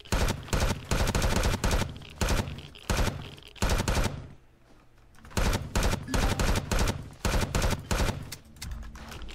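Rapid machine-gun fire from the space survival game Empyrion comes in loud close bursts of several seconds, separated by short pauses with quieter background noise.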